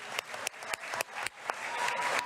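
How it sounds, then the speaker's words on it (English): Applause from the audience at a national First Nations assembly's annual general meeting, a steady spread of clapping across a large hall, fairly distant and moderate in level, with a few sharper claps standing out. "I feel like another round of applause for the lots of great points that were raised."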